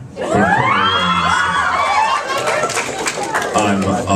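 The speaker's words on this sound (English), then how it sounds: "that was a lot of squealing going on over there" A convention panel audience squeals and shrieks in a loud, sustained burst of high excited cries, with crowd chatter and cheering mixed throughout.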